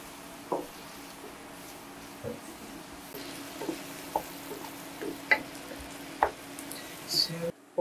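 Flour and vegetables frying gently in a pan for beef stroganoff, a faint low sizzle broken by occasional soft scrapes and taps of a stirring utensil.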